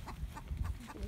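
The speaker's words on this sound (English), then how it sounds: "Let's see what these chickens are doing." Chickens clucking softly nearby in a farmyard with puppies around, short repeated low calls in an uneven rhythm over a low background rumble.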